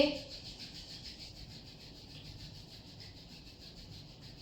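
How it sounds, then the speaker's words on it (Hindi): Two palms rubbing briskly together to warm the hands during a yoga session, a steady soft swishing friction that runs continuously and close, with no talk over it. "हाथों को रब करेंगे, थोड़ी गर्माहट लेकर आएंगे।"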